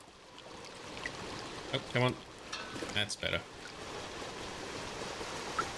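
A soft, steady rush of falling water from a waterfall fills the video game Stray, at a low level in the background. Brief voices and a few short game sounds break over it.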